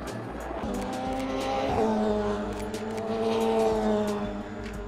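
Race cars circuit Donington Park, engines droning with rising and falling pitch as several pass close by, tires squealing briefly, loud and continuous without any talk.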